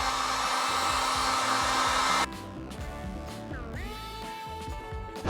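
A hair dryer blows loud and close for about two seconds while it heats decals on a bike fork, then cuts off, leaving faint handling noises.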